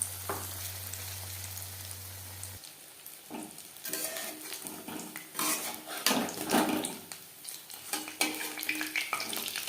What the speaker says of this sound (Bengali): প্রত্যেক ব্যাচের ফিশ পকোড়া একইভাবে ভেজে নেব।